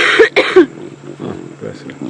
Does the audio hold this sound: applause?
no